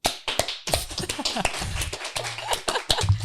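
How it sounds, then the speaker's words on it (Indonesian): Indonesian film podcast hosts clap their hands in a quick, uneven burst of sharp claps close to the mic, with brief voices and murmurs mixed in. "tepuk tangan dulu dong semua."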